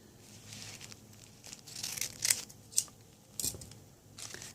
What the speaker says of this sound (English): I take my scissors and I just cut down to about, leave about maybe about 1 inch